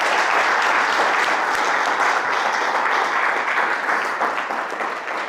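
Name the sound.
audience applause for the speaker's mentor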